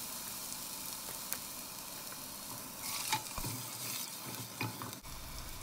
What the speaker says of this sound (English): Fry the masala just for about 2 minutes in low heat